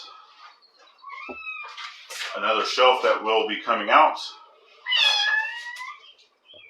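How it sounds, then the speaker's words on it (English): A cat meows a few times, short high calls near the start and again near the end, with a person talking in between. "Our cat that's saying hi"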